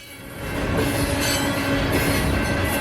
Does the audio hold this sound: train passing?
yes